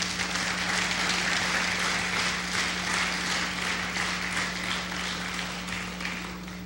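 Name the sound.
church congregation applauding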